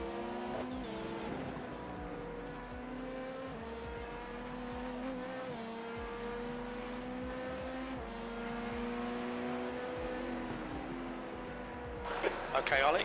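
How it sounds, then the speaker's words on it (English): Race cars lap Spa in a racing simulator game during a six-hour endurance event, engines whining and shifting through gears with steady rising and falling pitch, while a voice talks quietly over the sound throughout. "Ollie, there's a faster car approaching."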